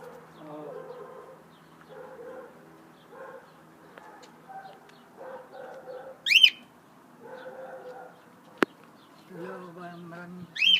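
A pet bird in a home garden gives repeated short cooing calls in bursts, fairly close, with a few sharp higher chirps and a sudden click between them.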